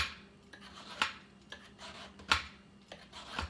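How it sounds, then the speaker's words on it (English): Opo squash peeled with a vegetable peeler: soft scraping strokes and light clicks of the blade against the skin, repeated at an irregular pace, quiet and close. "Vegetable peeler."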